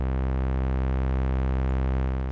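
Sawtooth oscillator sent through a CM22x distortion module in Voltage Modular software synth, a steady sustained buzzy tone with dense, bright upper harmonics, loud and unbroken for the whole stretch, no voices.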